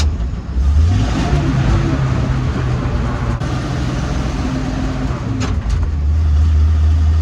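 A 1948 Dodge Power Wagon pickup engine drones steadily while driving, its pitch dropping and rising as the gears shift, loud and close with no talk.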